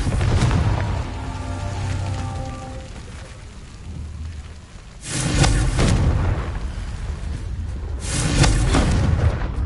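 Confringo explosive spell blasts in the video game Hogwarts Legacy: two heavy, booming bursts with a crackling rumble, the first midway and the second near the end, after a quieter lower stretch.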